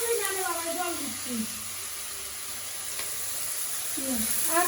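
Water poured into a hot pan of frying onions and meat in a village kitchen gives a constant close sizzle and hiss. A voice talks over it throughout.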